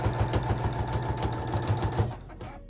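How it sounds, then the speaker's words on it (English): A sewing machine stitching through a layered sandwich of cotton, insulating fabric and cotton for a quilted oven mitt, running with a steady fast mechanical rhythm, close and moderately loud throughout. "pin it together, and then sew all of the layers together."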